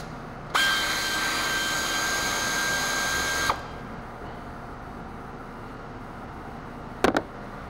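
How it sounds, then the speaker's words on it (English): A pneumatic air ratchet whirs for about three seconds while removing 14 mm bolts on the front brakes of a 2013 Hyundai Elantra, then a few quick clicks and clanks of metal follow. "I'm going to use the air ratchet, 14 millimeter."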